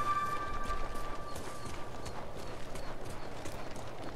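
A horse gallops in the video game Ghost of Tsushima, with a steady run of hoofbeats at a moderate distance over rushing background noise.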